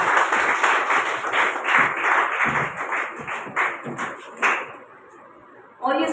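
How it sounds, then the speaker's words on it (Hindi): Vigorous audience applause welcoming a guest onto a stage, loud and close with rhythmic clapping that thins out and fades toward the end, followed by a brief burst of another sound. "जोरदार तालियों से स्वागत।"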